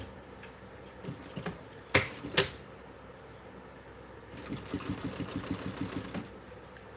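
Sewing machine top stitching a D-ring on a sewn project, a close, fast rhythmic run of needle clatter after a few sharp clicks and handling noises.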